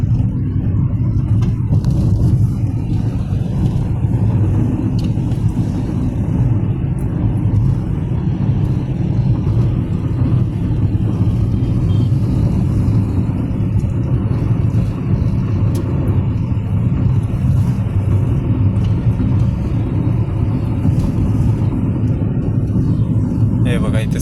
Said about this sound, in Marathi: आता तुम्हाला दिसेल की आता गाडी आपली उतारायला आहे